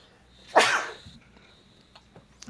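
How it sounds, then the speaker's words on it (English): One sharp, loud sneeze from a man at a podcast microphone bursts out and fades over about half a second, followed by quiet room tone with faint small clicks. "I could feel that sneeze coming and didn't want to do it right into the microphone."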